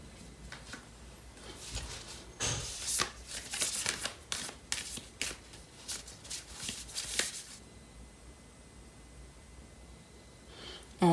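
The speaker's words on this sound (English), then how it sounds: "So I'm going to pull out a card from the Lover's Oracle deck." A Lover's Oracle deck of cards is shuffled by hand in quick riffling bursts, close and crisp, for about seven seconds before quieting.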